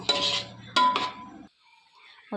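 Rice is added to a pot of egg dum biryani, giving a couple of metallic scrapes and clinks of a utensil against the pot, then a brief quiet and one final tap.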